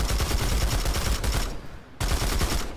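A high velocity ammunition gun fires in rapid automatic bursts in a video game, loud and close with a sharp rhythmic crackle, pausing briefly before firing again.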